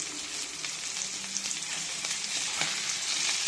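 Fish frying in a pan after being flipped, a steady close sizzle and crackle of hot oil with faint scraping, no talk.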